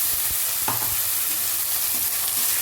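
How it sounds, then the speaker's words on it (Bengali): Spice paste fries in a pan with reddish-browned onions, giving a loud, continuous close sizzle broken by a few stirring scrapes, with no talking. "মশলাটা একটু কষে নেব।"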